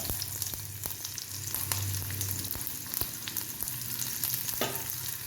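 Onion sizzles and fries in hot oil with popped mustard seeds, a steady crackling hiss with occasional stirring scrapes and pops.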